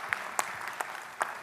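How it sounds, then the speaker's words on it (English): Sparse, thin applause from a small audience at a talk on health and fitness: a few scattered claps standing out over a soft background wash, brief and fairly quiet. "Give him a round of applause."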